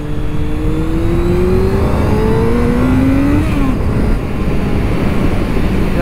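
Honda CBR 600 F motorcycle engine revving hard on wet ground, a loud close whine that climbs in pitch, drops briefly, then rises again with steady droning power.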